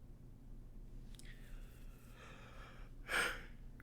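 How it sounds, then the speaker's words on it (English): A single human yawn, a drawn-out breathy exhalation that swells near the end, heard close and alone over low background hum. "Yawn number 1."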